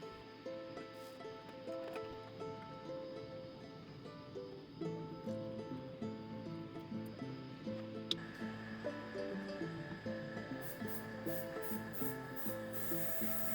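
Primed plastic parts of a scale RC car model body are sanded by hand in steady, rhythmic rubbing strokes, soft and close, with a faint constant hum behind them.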